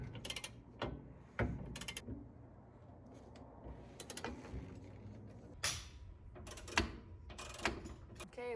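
A suspension bolt on a Camaro rear suspension is hand-tightened with a ratchet wrench, giving bursts of quick clicking ratchet strokes and metallic creaks between quieter pauses.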